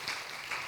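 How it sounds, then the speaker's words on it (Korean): A church congregation applauding during a Sunday afternoon sermon, a brief burst of steady clapping, moderately distant and soft. "박수 한번 쳐주세요."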